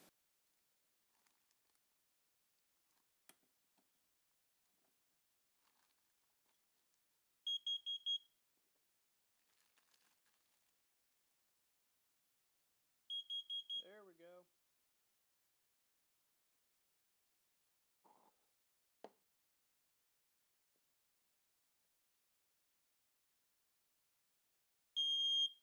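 A homemade Wi-Fi smoke and carbon monoxide detector sounds its alarm in short bursts of piercing, rapid beeps, repeated a few times with quiet gaps, alongside faint crinkling and handling noises.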